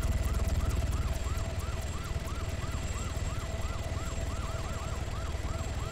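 Police car sirens wail in the ARMA 3 video game, several overlapping cycles rising and falling steadily over a constant low engine rumble, moderately loud and continuous.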